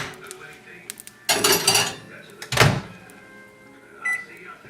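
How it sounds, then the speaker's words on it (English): A microwave oven used in a home kitchen to reheat an eggplant dish: dish and door clatter, a loud burst of handling noise, then a short electronic beep near the end, with no talk. "you can put it in the microwave"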